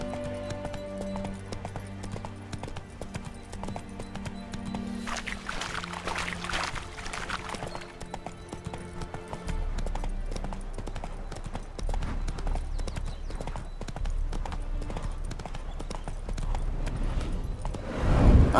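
Horse hooves clip-clopping in The Witcher 3 video game, a steady rhythmic trot of hoofbeats running throughout, moderately loud over game music and ambience, with a deeper rumble joining in the second half.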